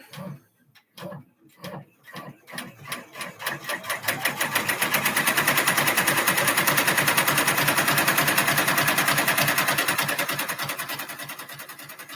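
A computerized embroidery machine stitches a see-through pouch with rapid, steady mechanical needle rattling that starts in short bursts, then settles into a loud, continuous run before easing slightly near the end.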